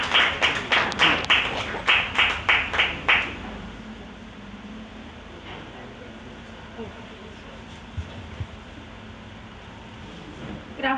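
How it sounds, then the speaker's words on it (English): A brief round of audience clapping at a book event, rhythmic and fairly close for about three seconds, then fading into a quiet room murmur with faint scattered knocks. "A round of applause for yourselves,"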